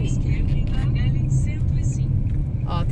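Car and bus traffic at a street crossing makes a continuous low engine rumble and road hum, with someone talking over it throughout.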